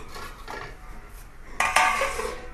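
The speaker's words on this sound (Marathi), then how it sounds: "तर मी 10 ते 15 मिनटं याला झाकण लावून ठेवणार आहे" A lid set onto a cooking pot of chana dal with bottle gourd gives two close metallic clatters near the end, after a few softer kitchen clinks, with no talking.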